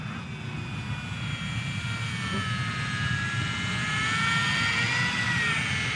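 Small Eachine Mini P-47 RC warbird plane with gyro stabilisation flying in light wind, a steady high-pitched electric motor whine droning continuously overhead, rising slightly in pitch and loudness toward the end, over a low rumble of outdoor wind.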